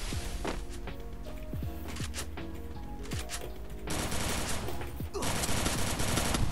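Gunfire in the game Free Fire: rapid automatic bursts and single sharp shots rattle close and loud, with dense continuous fire in the final seconds.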